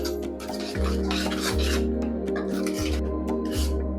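A spoon scrapes and stirs food colouring through a thick dry coconut barfi mixture in a pan, giving a steady close rasping with regular strokes about every second over a constant low hum.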